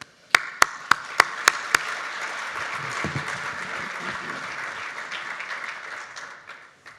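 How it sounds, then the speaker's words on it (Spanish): A few sharp, close claps open before a full audience breaks into steady applause at a water code conference, welcoming the national water director to the stage; the clapping continues evenly and tapers near the end. "Un aplauso, por favor."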